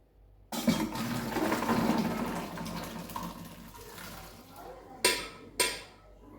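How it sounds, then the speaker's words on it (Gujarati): Boiled peanuts for salted kharising are tipped into a perforated colander: a steady rush of draining water lasts about four seconds, followed by two sharp metallic clanks of the pot against the strainer. "7 મિનિટ થઈ જાય પછી એને આવા કાણાવાળા વાસણની અંદર આપણે કાઢી લેવાના છે"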